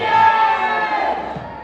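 A football crowd at a Gateshead v Woking match roars in a sustained, loud cheer that slowly fades, heard from within the stands.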